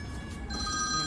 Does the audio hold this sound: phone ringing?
yes